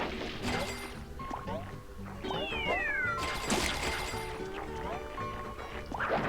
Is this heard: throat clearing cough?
no